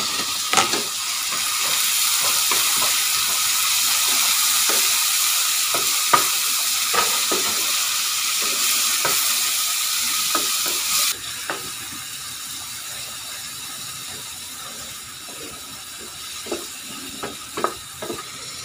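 Tomatoes tipped into a hot frying pan for an inexpensive Filipino home-cooked dish, giving a steady broadband sizzle with repeated scraping clicks of a utensil stirring the pan. The sizzle drops slightly partway through, and no one speaks.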